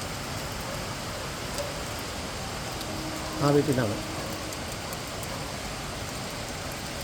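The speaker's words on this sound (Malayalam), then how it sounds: "അതിശക്തമായ മഴയാണ് കാരണം കാറ്റില്ലാതെ പെയ്യുന്ന മഴയാണ് മഴയുടെ ആ ഒരു ശബ്ദം കണ്ടോ" Heavy windless rain falls in Kochi, a steady even hiss throughout, with a brief voice speaking midway.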